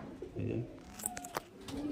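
A Kaldoma female highflyer pigeon coos close by in short low bursts, with scattered sharp clicks and handling noises around it.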